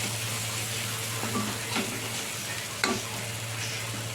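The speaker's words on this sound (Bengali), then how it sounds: "নিয়ে এবার এর মধ্যে জল দিয়ে মশলাটাকে দিয়ে দেবো" Water is poured into spice masala frying in a pan for a fish curry, giving a continuous sizzle and bubbling over a steady low hum, with a few brief stirring scrapes and splashes.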